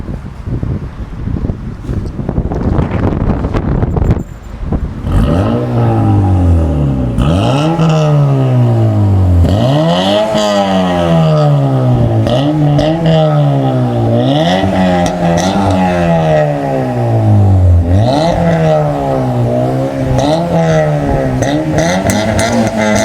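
An 8th-gen Honda Civic with a cat-back exhaust system is revved repeatedly, each pull rising to a raspy high note and dropping back, loud and close, after a brief idle start.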